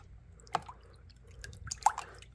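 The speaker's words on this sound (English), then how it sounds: "We'll just rinse it off here a little bit." Water splashes and drips as a vintage Schrade Walden electrician's knife, fresh out of an Evapo-Rust soak, is rinsed, giving two brief close spattering bursts over a quiet trickle.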